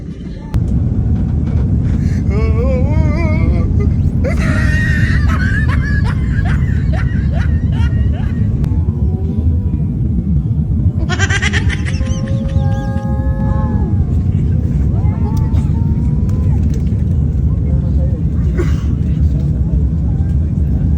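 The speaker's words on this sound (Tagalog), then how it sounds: "eto muna yung eksena sa loob ng eroplano" Inside an airplane cabin, a steady low engine drone and cabin rumble fills the whole clip while people talk and chatter nearby over it.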